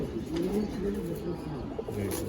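Giribaz pigeons, among them a green-spotted long-tailed hen, coo in soft repeated low phrases at close range, overlapping one another over light background noise.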